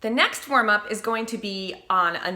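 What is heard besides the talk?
No everyday noise stands out behind the speech.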